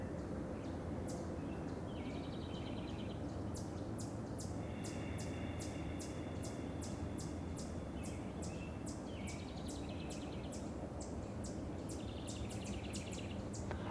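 Birds chirp and trill at sunrise outdoors, their repeated high calls and short rapid phrases standing out over a steady low rumble of background noise, faint and fairly distant, with no one talking.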